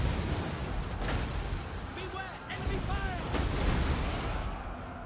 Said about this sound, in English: They are actually getting some shots off.